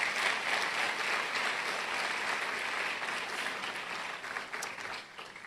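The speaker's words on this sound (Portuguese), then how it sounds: "Você pode dar uma salva de palmas a Jesus por isso?" A church congregation at a sermon breaks into sustained applause, a dense and fairly distant wash of clapping that slowly fades toward the end.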